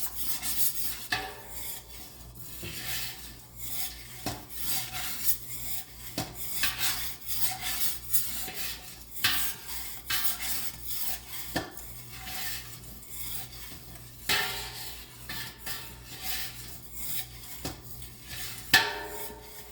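Shrimp etouffee being stirred in a pot, with repeated metal scrapes and clinks of a spoon against the pot in an irregular rhythm under a faint sizzle, close and fairly quiet.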